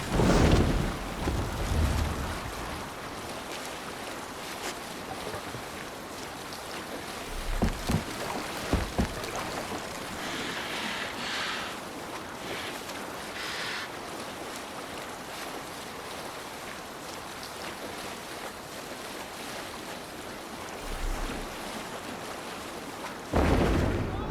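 Wind and waves wash around a sailing longship in Assassin's Creed Valhalla, a steady watery rush with splashes and gusts, sparse voices calling out near the start and end.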